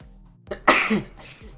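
A single sharp sneeze close to the microphone, a brief intake followed by a loud burst that trails off quickly.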